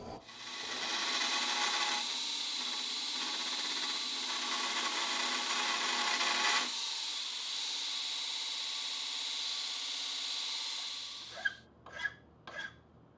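A hand file rasps steadily across a cast hammer head made from melted copper pennies. Long continuous strokes last about eleven seconds, then a few short, sharp scrapes or taps close the sequence.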